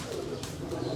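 A slate-grey pigeon cooing softly, a brief low murmuring coo heard close and faint over quiet background.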